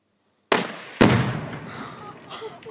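An explosion set off inside a refrigerator: two loud, sharp blasts half a second apart, followed by a long rumbling, crackling decay at moderate distance.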